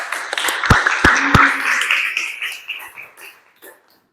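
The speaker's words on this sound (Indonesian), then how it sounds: "Beri tepuk tangan ya, close." Brief applause from a small audience at a classroom presentation, a few sharp claps at first that spread into a short patter and fade out within seconds.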